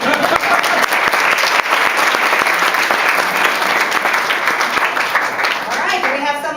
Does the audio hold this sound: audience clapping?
yes